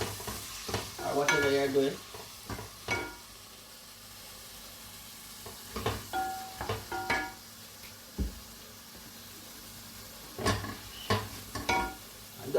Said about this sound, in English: So you kind of fry it before you add your vegetables